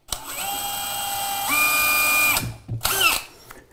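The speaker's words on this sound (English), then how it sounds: "This is why pre-drilling is so important." A power drill pre-drilling a screw hole in kitchen cabinets whirs steadily, then pitches up as it bites in, stops, and gives one more short burst, close by.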